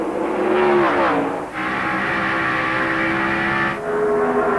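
Busch Series stock cars racing at Rockingham in 2002, a loud sustained engine roar with cars passing close, pitch dipping and surging as the pack goes by.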